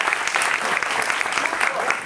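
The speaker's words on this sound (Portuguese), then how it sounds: "Receba os aplausos." An audience claps continuously for a guest at a debate, a thick, even wash of applause from a nearby crowd, with some talking mixed in.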